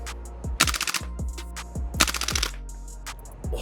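A PP-2K gas blowback airsoft SMG fires two loud, rapid full-auto bursts with sharp mechanical clatter, separated by single clicks and handling noise, with no talking.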